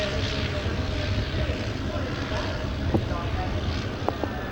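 The Swedish-built Tummelisa, a historical aeroplane, drones overhead at an air show, its engine a steady rumble under wind noise, with talk faintly present and a few brief clicks.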